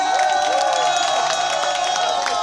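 A live concert audience applauds and cheers continuously at close range, with dense clapping and crowd noise, scattered whoops and shouts rising above it, and a sustained musical tone underneath throughout.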